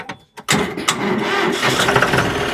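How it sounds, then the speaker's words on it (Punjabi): A tractor engine cranks briefly, then fires and roars to life, settling into a loud, steady rumbling idle close by. "ਸਟਾਰਟ ਕਰੀ ਟਰੈਕਟਰ ਨੂੰ ਬੜਕ ਦੇਖਦੇ ਆ ਇਹਦੀ"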